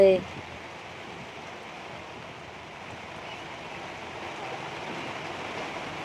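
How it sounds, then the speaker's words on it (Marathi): Steady broadband rain hiss fills the whole stretch, even and unbroken, with a brief voice-like sound at the very start. "पाऊस म्हणजे लईचा आलाय"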